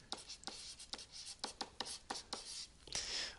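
Pen or pencil strokes scratch across a worksheet in quick, irregular bursts, close and quiet, with short pauses between words and no voices.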